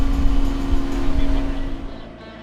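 Tractor with a front loader bucket driving forward, its engine a loud, steady close rumble with a strong tonal drone that eases off and fades slightly toward the end.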